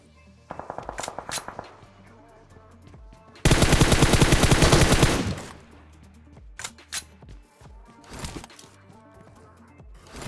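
Video game gunfire during a battle-royale squad fight: scattered bursts of shots early on, then a loud sustained burst of rapid automatic fire lasting about two seconds, followed by more sporadic distant shots and impacts.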